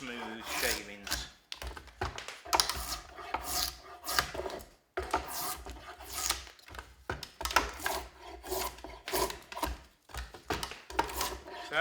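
A knife draws long, smooth shavings from a wooden bowl-turning hook handle. Repeated rasping strokes come close up in irregular bursts, with soft handling noises between them.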